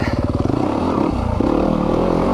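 A 2020 Yamaha YZ250FX dirt bike engine is heard close up while the bike is ridden on a trail. It chugs in rapid low pulses, then revs and holds a steady, loud drone.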